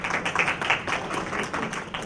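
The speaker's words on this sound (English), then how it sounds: "A round of applause, please." An audience applauds at an international conference and exhibition on traditional and alternative medicine, giving scattered rapid clapping that is moderately loud and fairly close throughout.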